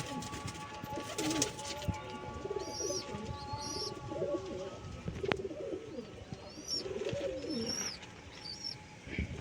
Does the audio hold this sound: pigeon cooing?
yes